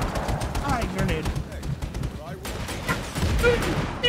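Grenade blasts and rapid gunfire in Just Cause 3 pound through a busy, loud battle scene, with a low boom rolling under the shooting while someone talks over the action.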